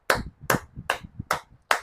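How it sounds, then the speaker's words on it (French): Five sharp hand claps in a slow, even rhythm, close and fairly loud, each spaced about a beat apart with nothing else around them. "mais j'applaudis pour lui encore."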